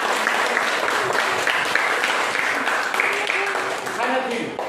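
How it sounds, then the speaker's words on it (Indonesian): Applause for grade 7 students after a classroom discussion, a steady patter of clapping from a group lasting several seconds, with a voice speaking over it. "Saya beri aplaus untuk itu."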